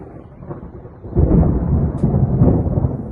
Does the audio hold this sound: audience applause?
no